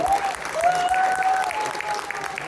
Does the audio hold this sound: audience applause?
yes